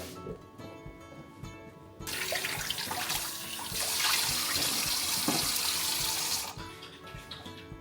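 Kitchen tap running water into a sink in a newly unpacked kitchen, a steady close hiss that swells louder for several seconds, then drops back to quieter background clatter.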